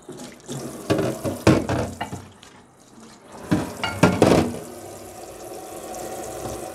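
Running tap water splashes as a new kuih dangai mould is washed with soap and water at a sink, rising and falling in several bursts as the mould is moved under the stream, fairly close and alone.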